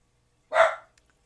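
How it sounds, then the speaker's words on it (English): A single sharp dog bark, loud and close, cuts through otherwise silent surroundings and ends quickly. "especially the four-legged barking kind"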